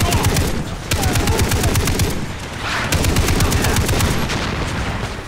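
Rapid bursts of Far Cry 3 gunfire and booming blasts crackle continuously, loud and dense, with a heavier rumbling explosion partway through.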